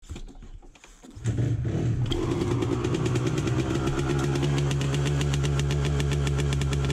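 An enduro motorcycle engine starts after a brief rumble, then runs at a loud, steady idle close by, with no voices.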